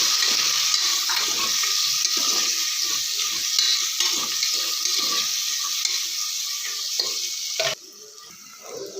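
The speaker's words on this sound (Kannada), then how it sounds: "ಇವಾಗ ಕಟ್ ಮಾಡಿಟ್ಟಿರೋ 2 ಈರುಳ್ಳಿ ಹಾಕ್ಕೊಳ್ಳೋಣ. Colour change ಆಗೋವರೆಗೆ ಹುರ್ಕೊಳ್ಳೋಣ." Two sliced onions frying over a low flame in a pan for egg biryani, a steady bright sizzle with repeated scraping stirs close up, easing slightly near the end.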